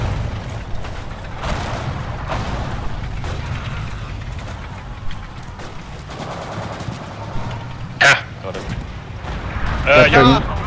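Machine gun fire in the World War II shooter Forgotten Hope 2 on the Seelow Heights map, a steady roar of distant gunfire and explosions with sharper bursts near the end, while a player talks over the battle.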